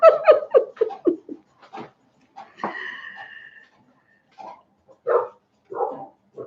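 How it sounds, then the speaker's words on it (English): Several dogs bark in quick bursts at a homestead, a rapid volley of close, loud barks at the start, then scattered yips and barks with short gaps, one sharper higher cry in the middle. "And the dogs are going crazy."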